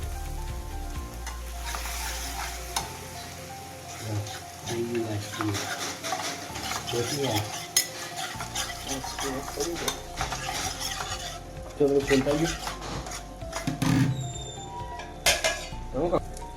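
Yogurt stirred into a sizzling spice tempering for Gujarati kadhi, steady frying hiss with a spoon scraping and clinking against the pot close by, while someone talks at times.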